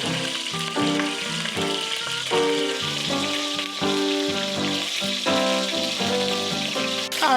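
Meat browns in a hot pot, sizzling and crackling steadily and loudly, while a music track plays along over the frying.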